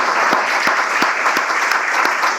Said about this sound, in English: Everyone give a big round of applause to Travis Duda and Hunchback Gallery.